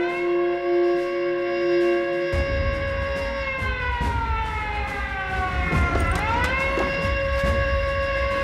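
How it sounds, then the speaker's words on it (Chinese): Naval battle alarm blares aboard a Qing Beiyang fleet warship in a Yellow Sea war film, a loud sustained wailing tone that holds, then bends downward and rises again over a rumbling background. "发战斗警报！ 发战斗警报！"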